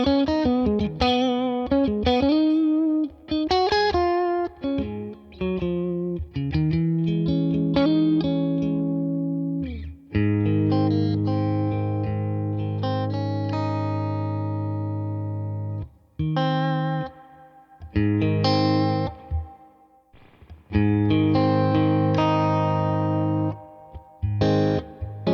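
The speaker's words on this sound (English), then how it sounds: "let's listen to the reverb of the amp" Electric guitar played through a Neural DSP Tone King Imperial MKII amp plugin with its amp reverb engaged, loud chords and melodic runs ringing out with a subtle wash of reverb tail, and no talking.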